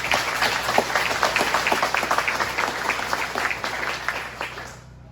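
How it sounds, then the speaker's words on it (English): Audience clapping at a Juneteenth talk in Tennessee, a moderately sized crowd with distinct individual claps, steady then tapering off. "So round of applause for her"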